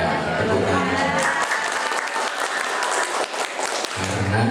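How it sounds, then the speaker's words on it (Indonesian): Applause from an audience at a health-clinic accreditation survey gathering, a burst of steady clapping that rises after a spoken line and fades as talk resumes. "Ya, tepuk tangan."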